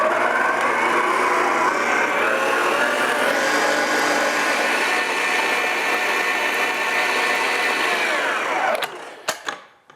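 An electric mixer beats vanilla, lemon and cornstarch into cheesecake batter for mini eggs cheesecake, a steady loud whir running for about nine seconds before it switches off, followed by a few faint clicks and knocks.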